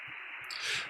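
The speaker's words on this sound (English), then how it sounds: "And this is the sound of my radio." A short burst of band-limited amateur radio receiver hiss and static, fairly quiet, with a brief swell of brighter noise midway; the antenna is a 20-meter end-fed half-wave on a balcony.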